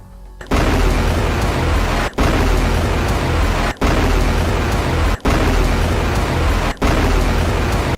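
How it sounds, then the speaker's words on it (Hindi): Rocket barrage fired by Hezbollah at an Israeli base: a loud, roaring wall of continuous blast noise, broken by brief gaps into several long, sustained bursts. "इसके बाद मिशहर बेस पर रॉकेटों का जत्था फायर किया गया।"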